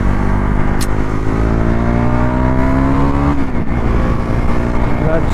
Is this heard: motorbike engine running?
yes